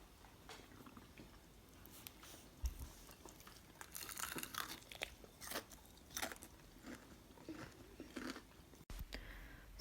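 Crunchy homemade fried chicken is bitten and chewed up close, with sharp crackling crunches coming in bursts between quieter chewing, no talking.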